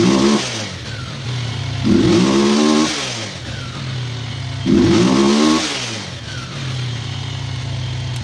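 Small single-cylinder engine fitted with a replacement spark plug, running steadily at a mid-pitched idle and revving up loudly twice in surges, with no talk over it.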